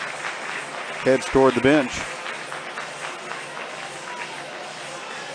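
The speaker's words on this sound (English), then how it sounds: "Mosley gets a good hand from the crowd as she" A crowd at a small-school girls basketball game, Kickapoo at Lebanon, applauds steadily in the background as a player heads to the bench, under a commentator's voice.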